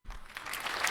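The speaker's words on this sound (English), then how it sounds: "I deserve those claps." A short burst of applause, dense clapping that starts abruptly and swells slightly over less than a second, with no talking.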